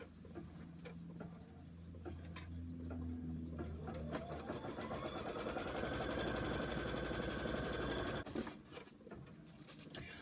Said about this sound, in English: Go ahead and stitch the placement stitches.